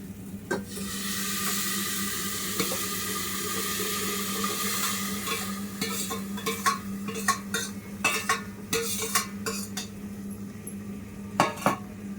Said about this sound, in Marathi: आता टाकते मटण.